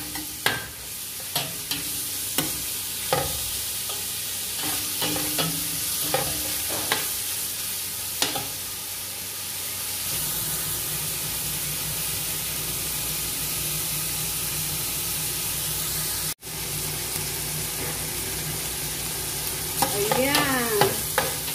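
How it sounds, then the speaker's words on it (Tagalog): Sliced meat and onions sizzle in a hot pan as a spoon stirs and scrapes, steady frying hiss throughout with intermittent clinks, and a louder crackle near the end. "At lagay natin ang ating hiniwang maliliit na karne. Ayan, igisa natin."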